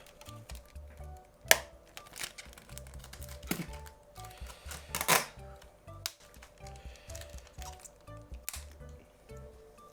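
Packing tape for an iPhone 7 screen repair is handled close by, with crinkling, tapping and light rustling, a few sharp tearing or peeling snaps, and scattered small clicks over a quiet background.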